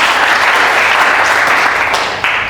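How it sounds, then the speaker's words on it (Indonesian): Loud, dense applause from a large church congregation during a sermon, a continuous wash of clapping that stays steady for a couple of seconds. "Kasih tepuk tangan untuk Tuhan."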